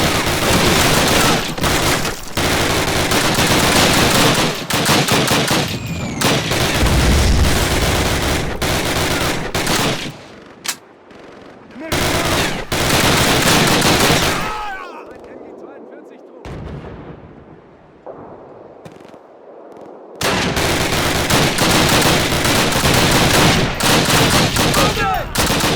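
Gunfire in a Call of Duty 1 video game battle: loud, dense volleys and explosive bursts pound almost nonstop, briefly drop away to a quieter rumble, then return in full force, with voices shouting amid the fighting.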